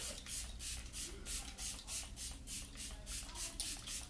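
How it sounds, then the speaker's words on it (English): Rapid bursts of Morphe Luminous setting spray from a pump bottle, a dozen or so quick pumps in a steady rhythm, close and fairly soft. "set that all into place with this Morphe Luminous setting spray"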